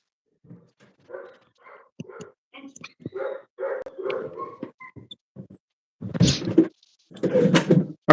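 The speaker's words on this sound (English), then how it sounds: "Stop barking at me." A dog barks indoors during electrical panel work, two loud bursts near the end after quieter scattered sounds that carry speech.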